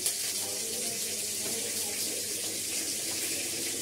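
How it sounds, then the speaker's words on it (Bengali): Nigella seeds sputter and sizzle in hot oil, a steady close hiss of frying that holds evenly throughout without any voices. "কালো জিরে ফোড়ন দিলাম।"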